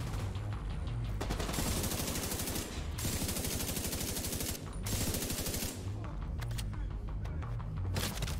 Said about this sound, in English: let me keep laser beaming you with my beast of an LMG